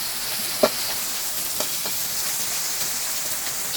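Pork fat rendering in its own oil over a charcoal fire, a steady soft sizzle with a few faint pops and spatters punctuating it, quiet and close with no voices.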